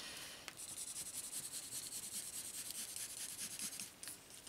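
A pen rubs back and forth along a paper edge to color a half-centimeter border for a vintage Christmas scrapbook album, a faint, close, rhythmic scratching in quick even strokes.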